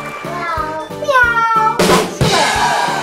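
A child imitates a cat's meow with drawn-out rising and falling cries, near and loud, over a steady background rhythm.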